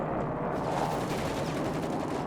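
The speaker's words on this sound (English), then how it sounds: "he's going to drop in front of the 30 cal there. The German 30 cal" A German .30 cal machine gun in Company of Heroes 3 fires a steady, rapid stream of shots. The sustained rattling burst is loud and continuous, with no talking over it.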